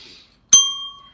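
A single bright bell ding rings out cleanly on its own, a sharp strike followed by a sustained, gradually fading metallic tone, used as a subscribe notification sound effect.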